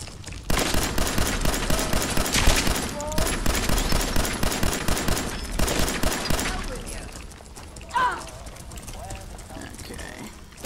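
Gunfire in the Fallout 4 game: rapid bursts of loud automatic shots for about six seconds, pausing briefly between volleys, then a quieter stretch with scattered sounds.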